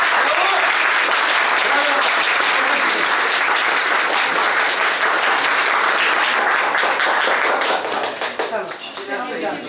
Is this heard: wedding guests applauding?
yes